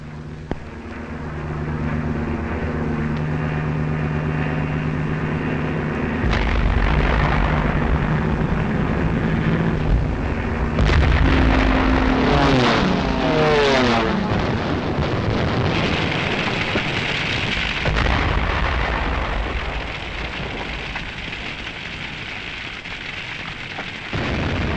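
Archival wartime recording of aircraft and bombing explosions over Rotterdam: a steady engine drone, then heavy rumbling blasts and crashing bursts that build in the middle, with a loud, dense roar and no speech.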